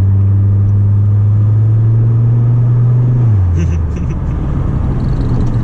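A 1998 Volvo S70 T5 turbo engine drones steadily from inside the car while accelerating, its low tone holding then dropping as if through a gear change, followed by rougher road rumble.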